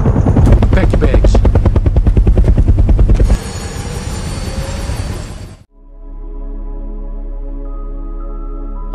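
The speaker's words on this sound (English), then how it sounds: "military helicopter that landed right in her yard" A military helicopter lands in a yard in a movie scene, its rotor chopping loudly and rhythmically up close for about three seconds before giving way to quieter, steadier background sound.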